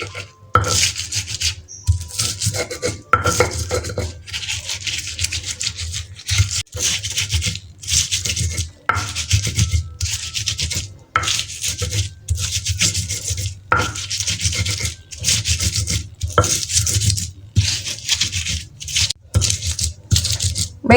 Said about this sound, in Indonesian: kita ulek dulu cabai merahnya